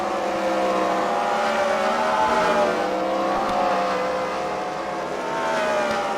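Race cars roar past during a CWRL event at The Freedom Factory, a continuous, fairly distant whine of engines with shifting pitch and slow swells in loudness.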